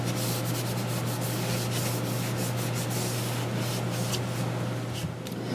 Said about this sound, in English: I'm going to wipe down the top of the gantry